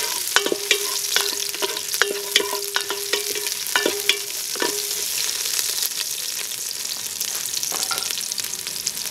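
Chili, onion, bay leaf and whole peppercorns fry in a pan with a loud, continuous sizzle, punctuated by repeated metallic scrapes of a spoon stirring, near and without voices.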